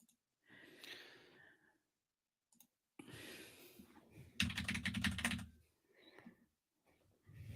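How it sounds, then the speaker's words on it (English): Typing on a mechanical computer keyboard, bursts of clicky key taps with short pauses between them, close and fairly quiet, with faint breathing. "I like to hear the taps of the keyboard."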